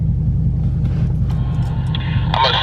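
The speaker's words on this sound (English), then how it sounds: "I'm gonna just let these cars pass right quick" Cars pass by on a road beside a parked 2018 Dodge Charger Hellcat, a steady low rumble of traffic running throughout with a brighter passing swell near the end, no talking.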